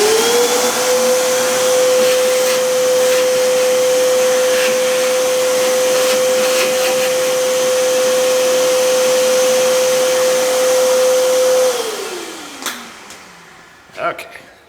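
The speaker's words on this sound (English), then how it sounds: "vacuum some more." A vacuum cleaner runs loud and steady while cleaning crumbs from a punctured tire being repaired with a combo plug and patch, then winds down as it is switched off, followed by a few faint handling knocks.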